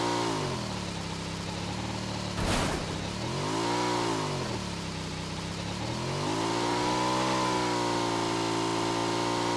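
A car engine in PUBG Mobile revs up and down in repeated swells, loud and close, with a sharp thump partway through and no speech.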